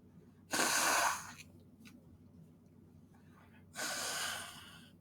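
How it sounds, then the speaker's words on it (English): A person with allergies blowing their nose, two loud, breathy nasal blasts about three seconds apart, each lasting close to a second, over a low steady background hum. "Sorry if you had to hear me blow my nose"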